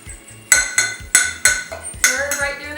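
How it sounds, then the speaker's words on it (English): A fork stirring egg yolk in a bowl while making pumpkin pie, a run of sharp metallic clinks and scrapes against the bowl in an uneven rhythm, close and clear. "Stir right through that yolk. We're just gonna keep stirring."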